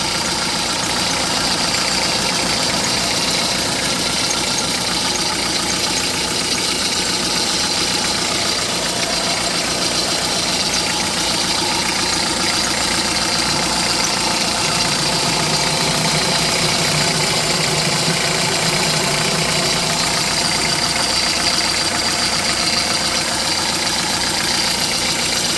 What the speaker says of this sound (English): Okay, let's start the engine first. Alright, I started the engine.